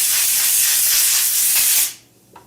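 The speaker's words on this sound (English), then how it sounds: "To clean it, compressed air" Compressed air blasts through a Sprint Filter P08F1-85 motorcycle air filter from a 2017 Suzuki GSX-R 1000, a loud steady hiss lasting about two seconds before cutting off abruptly, with a faint click afterward.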